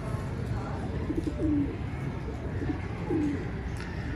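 Ferozpuri pigeons, including a purebred breeder female, coo softly in two short bursts at dusk, faint against a steady background hiss.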